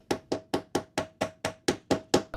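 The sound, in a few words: flathead chisel knocking out spot weld on car body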